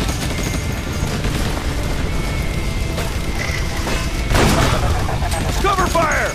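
Gunfire and booming blasts from the shooter game Battle: Los Angeles crackle in rapid bursts, loud and continuous, with a player talking over the action.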